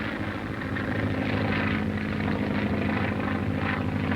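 A 1942 World War II training aircraft flies overhead, its propeller engine droning steadily with a continuous, loud buzzing hum and no voices.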